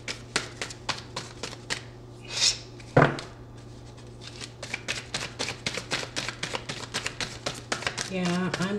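Tarot cards being shuffled by hand, a quick run of crisp riffling flicks and taps up close, with one louder snap partway through and speech mixed in.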